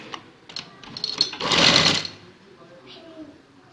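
A sewing machine stitches a lace strip onto a cutwork neckline in a short, close burst of whirring that rises and falls within about a second, with a voice speaking around it.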